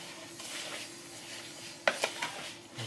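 A spoon stirs caster sugar into a cake mixture in a bowl, soft, quiet scraping followed by a few brighter clinks of the spoon against the bowl near the end.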